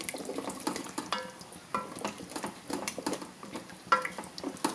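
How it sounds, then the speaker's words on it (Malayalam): Ada cooking in jaggery syrup in a pan for ada pradhaman, stirred with a spoon: irregular scraping and clinking strokes over a wet, bubbling sizzle, fairly close and moderate in loudness. "എന്നിട്ട് നല്ലപോലെ ഇളക്കി കൊടുക്കാം."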